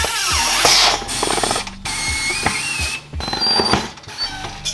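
Tire bead being broken on a RAV4 wheel during TPMS sensor removal in a tire shop: a series of ratcheting mechanical clicks, pneumatic bursts and metallic squeaks, loud and close, in uneven spurts with brief gaps.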